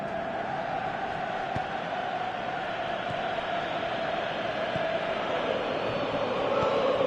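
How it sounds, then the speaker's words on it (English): A large stadium crowd in a football video game roars and murmurs continuously in the distance, a steady wash of cheering with no clear break. "you can hear how the crowd are reacting to this too"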